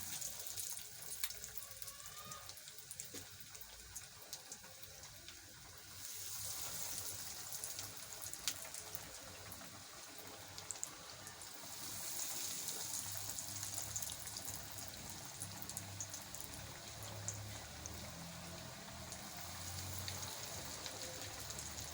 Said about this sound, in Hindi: अब इनको हम फ्राई कर लेते हैं